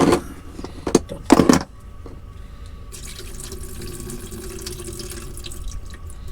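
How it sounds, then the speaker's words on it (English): Water from a tin of carrots drains into a sink, starting with a few sharp knocks and clatters, then a steady, moderate trickle that runs to the end. "let me see how many carrots I've got left when I drain it"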